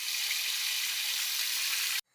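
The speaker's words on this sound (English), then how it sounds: "First, put water in the pot and let the water boil." Water runs steadily into a cooking pot being filled for boiling pasta, a loud continuous splashing hiss that stops abruptly near the end.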